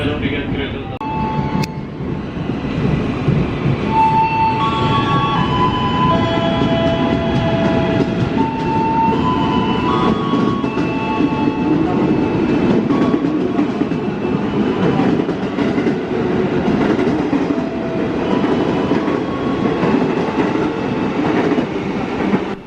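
Inside the Kertajaya passenger train, a loud, continuous rumble of wheels on track and rattling carriages carries on, with faint tonal squeals and a voice talking over the ride.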